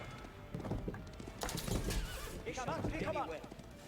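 A horse whinnies at a stable in Age of Empires 4, a rising and falling neigh heard over clip-clopping hooves and busy game sounds, with quiet talk underneath.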